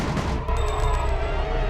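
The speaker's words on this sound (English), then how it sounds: "Every single shot you fire is loud as hell" Rapid gunfire from the video game Gungrave, loud and sustained over the whole stretch, dense bursts of shots with metallic shell-casing clinks ringing above the blasts.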